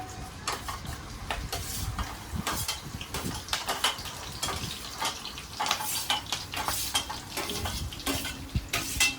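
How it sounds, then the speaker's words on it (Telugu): Onions, green chillies and curry leaves fry in hot oil for a mutton curry, with steady sizzling, stirring scrapes and clinks of a spoon against the pan close by, no voices. "నూనె కాగింది ఇప్పుడు ఉల్లిపాయలు పచ్చిమిరపకాయలు కరివేపాకు వేసుకున్నాం"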